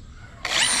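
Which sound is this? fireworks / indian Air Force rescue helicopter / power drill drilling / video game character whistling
power drill drilling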